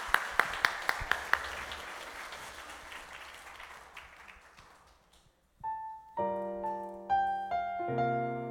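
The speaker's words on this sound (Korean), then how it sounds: "자, 여러분 박수 한번 해주세요." Brief, faint church congregation applause with a few sharp claps at the start during a Thanksgiving Sunday service, thinning out before piano chords begin.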